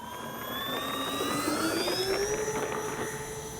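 An Avios 1600mm Twin Otter twin-engine RC plane with takeoff flaps set takes off, its whining electric motors rising steadily in pitch as it accelerates and climbs, loud and close, with no talk.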